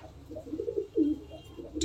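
Tippler pigeons cooing inside a loft, a soft run of low throaty coos repeating close by, with no voices over them.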